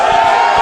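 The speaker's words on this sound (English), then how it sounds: "Hoodfoot playing to the crowd right now, Wadsworth." A wrestling crowd cheering at a live ring event, a brief, loud, dense roar of many voices with no pauses.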